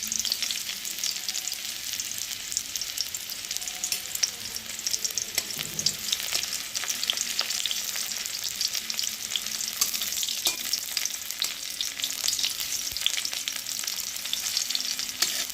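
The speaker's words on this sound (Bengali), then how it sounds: "যে তেলে লঙ্কা রসুন ভেজে নিলাম, সেই তেলের মধ্যে আমি একটু পেঁয়াজ দিলাম কুচিয়ে। পেঁয়াজটা ভালো করে ভেজে নেব।" Chopped onion frying in mustard oil previously used to fry chilli and garlic, giving a steady, dense sizzle with scattered crackles and occasional stirring scrapes, close and continuous throughout with no talk.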